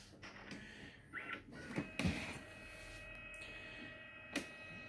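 Quiet mechanical whirring and a few clicks and clunks from a Brother inkjet printer as its head shuttles out, with short bursts of motion.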